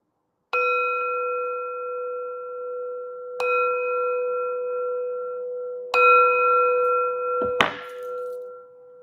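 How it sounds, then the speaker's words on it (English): A small bell rings to close a full moon ritual, with three clear, sustained strikes spaced a few seconds apart, each ringing out. A clattering knock comes at the end as the bell is set down. "Let's close out with the bell"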